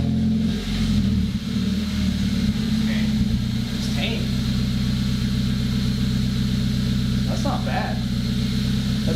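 A car engine idling through a newly fitted full exhaust with a small resonator, a loud steady low rumble close by, with a short blip early on and people talking over it.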